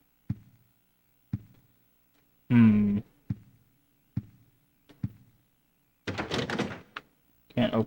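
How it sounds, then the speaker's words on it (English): A locked door in the Silent Hill 4 video game rattles and thunks in short repeated knocks, roughly once a second, with a couple of louder, longer bursts between them and no talking over it. "Can't open the door."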